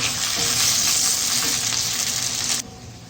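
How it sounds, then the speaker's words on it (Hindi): Potato cubes frying in oil in a handi, a loud close continuous sizzle that cuts off sharply near the end, leaving a quieter hiss, with no voices. "आलू को 4-5 मिनट फ्राई करेंगे।"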